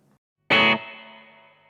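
A single strummed electric guitar chord through a clean amplifier with reverb rings out loud and bright, then decays slowly with a lingering reverberant tail.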